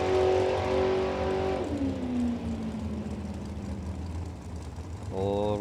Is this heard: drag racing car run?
yes